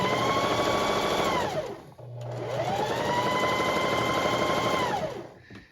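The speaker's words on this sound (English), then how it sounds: "we're just going to sew along here pretty close to the edge" A sewing machine stitching along the edge of a pillow cover, two loud, close whirring runs that spin up, hold a steady buzzing rattle, then wind down with a short pause between them.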